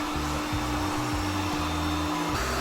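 An Ecovacs Deebot N30 robot vacuum runs steadily in strong mode with a constant whirring hum and a faint high whine, close by, with no voices.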